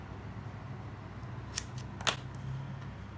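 Scissors snip yarn for a dinosaur sculpture, two quick, crisp cuts close by against a quiet room background.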